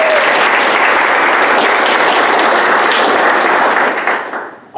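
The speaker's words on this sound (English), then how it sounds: "Would you please give Uli a round of applause?" Crowd applause at a speech competition final fills the room, dense, steady and loud for about four seconds before quickly dying out.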